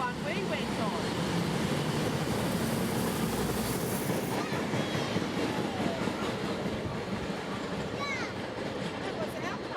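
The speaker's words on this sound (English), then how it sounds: "Did you go on a train ride yesterday on a steam train?" A steam train rumbles steadily with rhythmic clattering of wheels on track, loud and close throughout, with faint voices mixed in.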